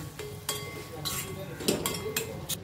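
A spoon scrapes and clinks in a pan as spiced stuffing with coriander and lemon for stuffed brinjal is mixed, with light sizzling under a few sharp metallic taps, close by.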